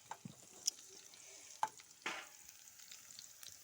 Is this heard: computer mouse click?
no